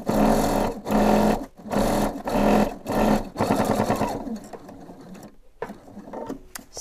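A sewing machine stitches along the bottom seam of a homemade pillow in several loud, steady bursts separated by short pauses, then slows and winds down toward the end.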